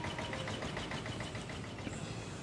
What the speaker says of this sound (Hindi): तो अभी ये मेसी कुबेर हमारी शॉप से बाय बाय हो रहे हैं